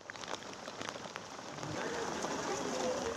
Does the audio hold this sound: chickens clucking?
no